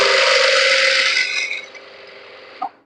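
A sewing machine stitches a lining blouse with long stitches, a steady close mechanical rattle that runs loud then fades over the second half, ending in a brief clack.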